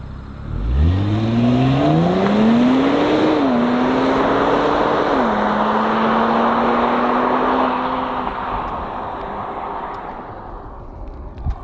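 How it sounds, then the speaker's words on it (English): An Infiniti Q60 Red Sport 400 twin-turbo V6 revs at full throttle, its pitch climbing steeply through shifts then holding a loud, sustained roar before easing off, heard from inside the car. "Let's go full throttle right now and see what this thing sounds like."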